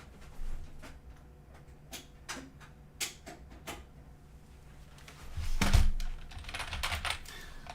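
Keys clatter on a computer keyboard in irregular bursts, with separate sharp taps at first, then a denser, louder flurry of typing near the end, close and with no voices.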